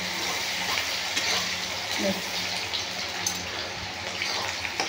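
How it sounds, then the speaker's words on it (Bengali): Onions fry in oil in a pan for a Bangladeshi-style chicken curry, giving a steady close hiss of sizzling with occasional soft stirring knocks underneath. "পেঁয়াজটা লাল করে আমি ভেজে নেব।"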